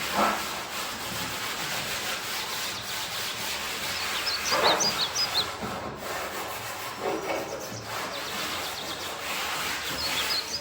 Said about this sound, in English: I think I'm going to take my hands and just rub it in.